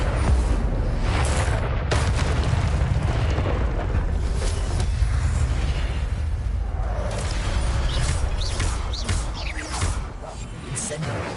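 Incendio fire spell cast in the Hogwarts Legacy video game on PlayStation: a dense, continuous roaring burst of flame with whooshing and crackling pops, loud and sustained throughout, fading slightly at the end.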